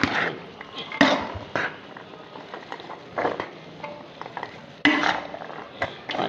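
Boiled white chickpeas, salted and mixed in a pot with a spoon, produce irregular clinks, scrapes and knocks in close bursts with quieter gaps between them.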